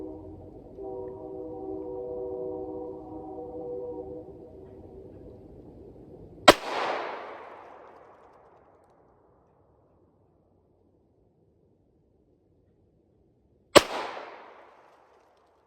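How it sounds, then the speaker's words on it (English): Two sharp, loud handgun shots at a shooting range, several seconds apart, each a sudden crack followed by a short decaying ring-out, after a low steady hum. "allow the gun to fire."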